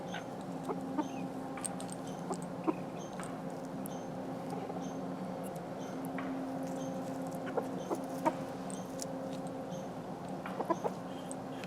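Soft, intermittent clucks from several black Old English Game chickens over a steady low hum, with occasional sharper peeps scattered throughout.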